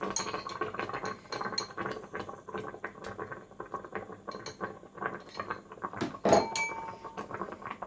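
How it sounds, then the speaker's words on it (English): A spoon stirring butter into nettle soup in a pot, with soft continuous swishing, light clinks against the pot and a gentle bubbling underneath, close and fairly quiet. "now we can stir in the butter"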